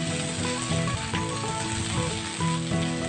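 Tomato rice with spices being stirred in a hot pan, a steady close sizzle with repeated scraping and clinking of the spoon throughout, no voices.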